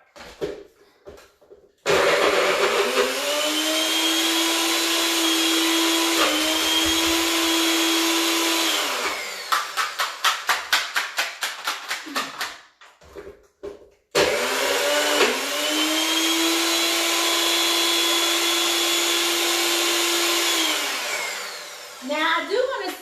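A NutriBullet blender whirs loudly with a steady motor drone, pulses in short bursts for a few seconds, stops briefly, then runs steadily again.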